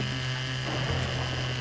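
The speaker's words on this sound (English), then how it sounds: "Ooh, this chainsaw's pretty powerful." A chainsaw revs in Serious Sam: The Second Encounter, a loud, steady high-pitched whine over a low motor drone, continuous and close.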